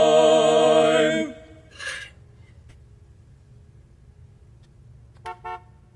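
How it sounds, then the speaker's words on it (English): A passing car sounds a loud, sustained horn blast for about a second, then the road goes quiet under a low rumble before two short toots further off. "I hear a car."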